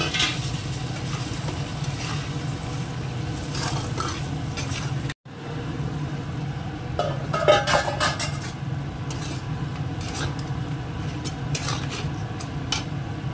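Curry cooks in a pan with a steady frying sizzle and repeated spoon-stirring scrapes and clinks against the metal, one brief break near the middle, no talking.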